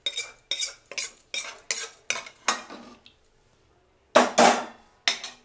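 A metal spoon repeatedly clinks against a pot while tempering is stirred into buttermilk curry (majjiga charu), a series of sharp scraping knocks in a steady rhythm, then a pause before a few louder strokes.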